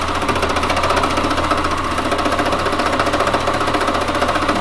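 A sewing machine runs quickly and continuously, stitching applique on fabric with a steady, fast mechanical chatter. It is loud and close, and no voices are heard.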